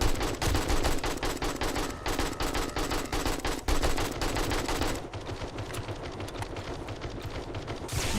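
A newly tried gun fires in 7 Days to Die during a horde fight, with rapid automatic bursts rattling loud and close. A short lull follows before the shots pick up again.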